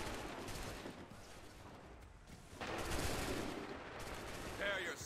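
Soldiers fire a volley of muskets in Assassin's Creed III, a faint, crackling burst of overlapping shots. Gunfire rumbles on continuously through the clip and swells partway through, with scattered voices in the background.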